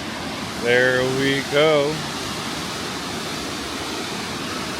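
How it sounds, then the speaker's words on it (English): The famous waterfall at Jajce in Bosnia rushes as a steady, dense roar throughout, while someone speaks briefly over it. "We're about to approach the famous waterfall here in Jajce."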